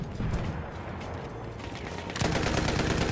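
Rapid automatic gunfire from a weapon in a shooter video game, a dense rattling burst that runs throughout and grows louder and harsher near the end, with no speech over it.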